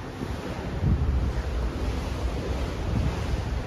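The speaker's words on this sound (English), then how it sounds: "it's gonna get really windy here, so pardon the wind." Wind buffets the microphone in steady rough gusts on the deck of a cruise ship at sea, with a constant low roar like surf beneath it and no voices.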